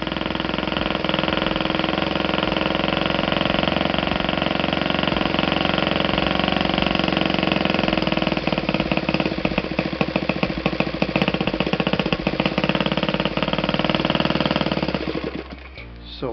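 A Saito FA 120S glow-fuel model aircraft four-stroke engine runs at steady high speed, loud and close, its dense buzzing drone holding constant before cutting out near the end.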